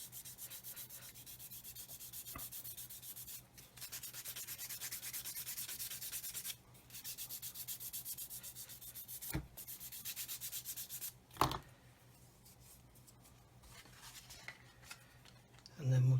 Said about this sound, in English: I'm just going to go around here and just sand away and sand away.